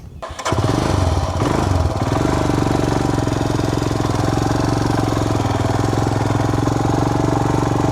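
A Royal Enfield Himalayan BS6 motorcycle engine starts and settles into a loud, steady, thumping idle, close by and running on alone.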